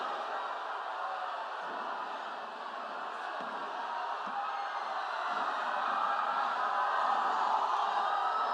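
Large audience clapping at a government event for the chief minister, a steady, dense wash of applause with faint cheers that swells slightly toward the end.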